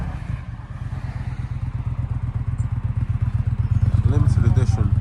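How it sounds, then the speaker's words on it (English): A Triumph Thruxton RS motorcycle rolls off with a steady, rhythmic thumping engine pulse that grows louder, while voices talk nearby. "Thruxton RS is now rolling off"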